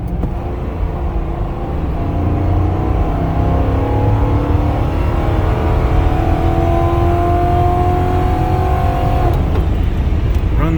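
Ford Crown Victoria P71 police car at full throttle, its V8 rumbling loud and steady as revs climb smoothly through a long pull with no talk, ending with a brief shift.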